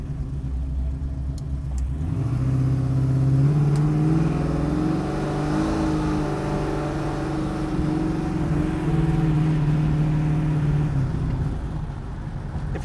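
A 1967 Chevrolet Camaro with a V8 pushing 660 horsepower revs up from a low rumbling idle, rising and falling through several throttle blips, loud and close with a deep, throaty exhaust note.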